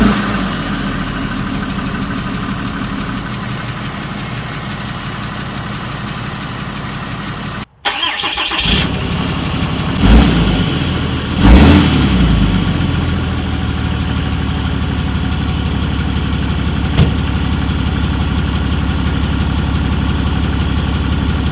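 A Cummins diesel engine fitted with an AFE cold air intake cranks and fires after a brief silence, then settles into a loud, steady, rumbling idle heard up close with a few revving bumps early on.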